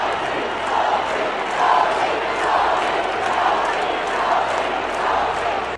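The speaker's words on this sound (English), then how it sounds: "Indiana Fever fans were chanting, "Sophie, Sophie."" Indiana Fever fans in a packed basketball arena chant "Sophie, Sophie" in a loud, steady, rhythmic crowd roar that swells and recedes in repeated waves.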